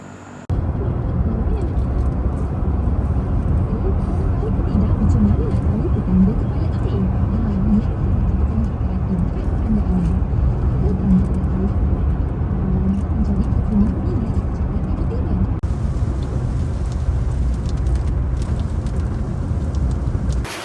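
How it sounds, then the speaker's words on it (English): Steady traffic along a Malaysian roadside, a continuous broad rumble and whoosh of cars going by at a moderate distance, with a person talking over the road noise. "There's definitely a decent amount of cars passing."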